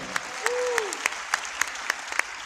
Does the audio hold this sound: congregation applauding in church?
yes